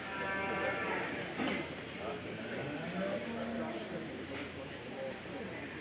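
Shorthorn breeding heifers and other cattle in a county fair show ring in Greene County, Iowa, with occasional moos and livestock sounds under steady crowd chatter and an announcer's voice.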